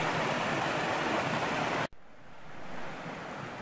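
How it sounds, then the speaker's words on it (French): A fast-flowing stream lower down a hiking trail in March gives a steady, full rush of water, which cuts off abruptly partway through and returns as a quieter, more distant flow. "toujours le même ruisseau plus bas, alors le débit s'accélère"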